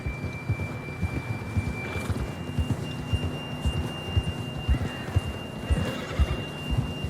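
Horse hooves clip-clopping in a steady rhythmic gallop in the Red Dead Redemption 2 video game, with a brief whinny near the end, close and moderately loud over a thin tonal background.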